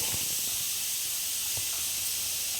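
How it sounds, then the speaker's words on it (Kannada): Grated carrot fries in a hot pan with a steady, soft hiss running throughout, broken by a few faint clicks and knocks. "ಕ್ಯಾರೆಟನ್ನು ಹಾಕಿ ಫಸ್ಟಿಗೆ ಚೆನ್ನಾಗಿ ಫ್ರೈ ಮಾಡ್ಕೊತೀನಿ"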